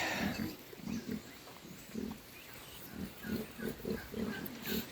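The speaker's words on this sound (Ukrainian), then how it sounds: "Такі, друзі, свинки." Pigs grunt in short rhythmic bursts, several low snorts in quick succession, close by and fairly loud over a steady background hiss.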